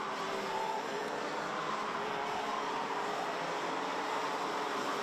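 Junior racing kart engines at Genk make a continuous, fairly distant buzzing whine mixed with broad track noise, steady throughout with no clear talking.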